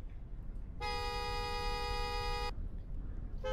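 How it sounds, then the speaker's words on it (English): A car horn in the Roblox game Greenville sounds one steady honk lasting under two seconds, followed by a brief second toot. "Honk."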